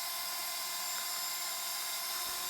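A drill bit boring into a piece of scrap wood in a workshop, with a shop vac hose clamped nearby; a steady, high whining drill tone runs continuously and fairly quietly throughout, with no talking.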